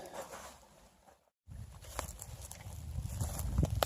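Footsteps crunch through snow beside a winter creek, soft irregular steps close by that pause briefly and then return, growing a little louder toward the end.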